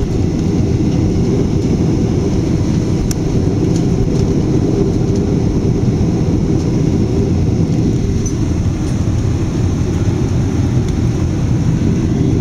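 A British Airways Boeing 737-400 takes off from Manchester Airport, heard as a loud, sustained low roar of jet engines that holds steady throughout, with no talk over it.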